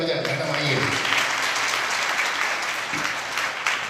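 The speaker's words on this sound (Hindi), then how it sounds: "पास्टर साहब के लिए ताली बजाएं" A church congregation claps for the pastor in a dense, continuous burst of applause that fills the room for several seconds, with voices murmuring faintly underneath.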